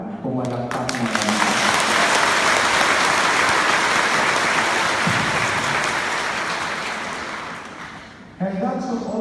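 A large audience at a Filipino retreat evening claps in sustained, dense applause lasting most of the moment, fading slightly near the end before voices return.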